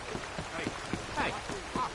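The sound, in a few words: rain in the video game Red Dead Redemption 2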